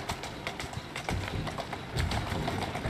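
Horse hooves clip-clop in the video game Syndicate, a steady, moderately close series of sharp hoof strikes with a rough rumbling background.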